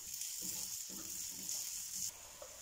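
Chopped pepper and tomato fry in a pan with a steady, faint hiss of sizzling and a few soft stirring scrapes, the sizzle dropping off near the end.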